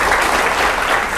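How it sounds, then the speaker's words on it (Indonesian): Crowd at a casual talk session with Indonesia's army chief of staff applauds, a short, dense burst of many hands clapping together at steady loudness. "Oke, tepuk tangan."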